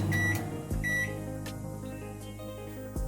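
A microwave oven hums steadily while a few short electronic beeps sound, with faint clicks in between.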